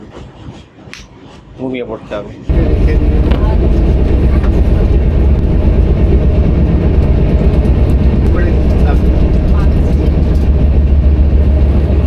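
A late-running passenger train heard from inside a sleeper cabin, a loud, steady rumbling roar of wheels and carriages that sets in abruptly after a few seconds of quieter talk.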